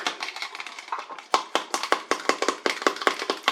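A fork beats eggs in a bowl for an omelette, giving a quick run of light, bright clinking taps close up, steady and rhythmic throughout.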